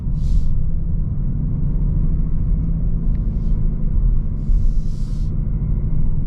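A 2024 Ford Mustang GT with a loud exhaust cruising at night, heard as a deep, continuous low rumble from inside the car, steady and heavy with a few faint higher ticks above it.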